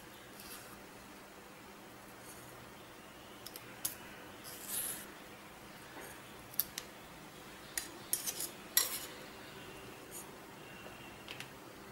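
A knife slices pirandai (adamant creeper) stems for chutney in a quiet kitchen, making sparse, faint clicks and taps against a cutting surface with no talking.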